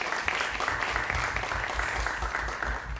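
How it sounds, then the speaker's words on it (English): An audience at a film festival panel gives a soft but dense round of applause, the clapping steady and fairly distant for about three seconds. "A round of applause for these guys."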